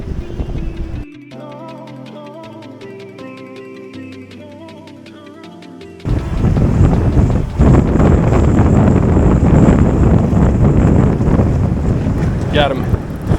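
Strong gusty wind buffets the microphone on a fishing pier in Thailand, a loud continuous roar over the second half after a quieter opening with a tonal musical passage.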